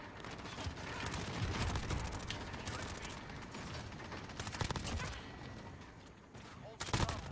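Rapid automatic gunfire in a video game firefight, with dense bursts of rattling shots and mechanical clatter running through most of the clip, loudest near the end and mixed with a voice in the background.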